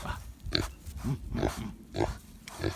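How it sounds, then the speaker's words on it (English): Small pet pigs grunt and oink outdoors on a farm pasture, a series of short, close snorts spaced about every half second with soft rustling between them. "These are pet pigs."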